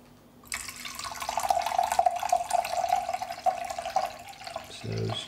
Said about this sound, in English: then what we're gonna do is gonna top it up with a bit of mineral water